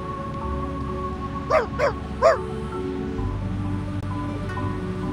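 A puppy in the video game Reverse: 1999 gives three short yipping barks in quick succession, mid-loud over a soft steady background hum.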